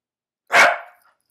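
A dog gives one sharp, loud bark close by, alone against silence.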